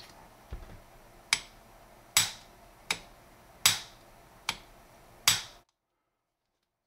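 Part of a full-custom Sbardella Arms 1911 Commander pistol snapping into place, a crisp series of about seven sharp metallic clicks at roughly regular intervals, close and clear over a quiet room, then silence.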